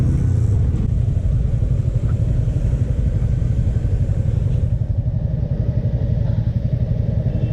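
A car's engine rumbles steadily from inside as it is driven, a low continuous throbbing drone with slight clatter and no speech.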